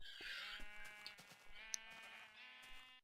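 Sheep in a Minecraft-style game farm bleat in several overlapping, close-up calls, each a wavering nasal cry, alongside scattered small clicks and thuds from other farm animals.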